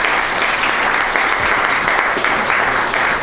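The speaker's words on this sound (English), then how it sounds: "Let's give him a round of applause." A city council meeting audience applauds a graduate receiving a diploma; thick, even clapping from many people fills the whole moment at a steady, fairly loud level with no break.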